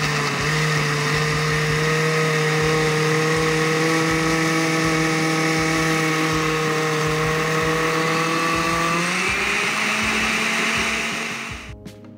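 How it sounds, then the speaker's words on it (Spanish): A kitchen blender purees tomatillos for Mexican mole verde, a loud steady motor whine with a constant pitch that dips slightly near the end before the motor cuts off abruptly. "Primero vamos a licuar los tomatillos."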